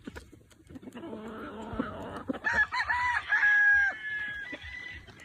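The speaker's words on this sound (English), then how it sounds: "Looks like a 2-year-old cock, huh?" A young rooster (stag) crows once, close and clear, after some low clucking and farmyard rustle, the call rising and holding before breaking off.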